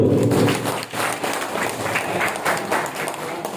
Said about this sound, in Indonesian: tepuk tangan untuk kader-kader Posyandu